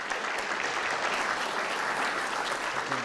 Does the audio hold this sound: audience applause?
yes